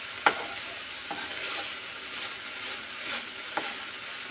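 Coconut curry ingredients fry quietly in a pan while being mixed, a faint continuous sizzle broken by occasional spoon clicks and scraping strokes.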